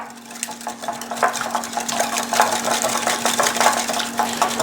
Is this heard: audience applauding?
no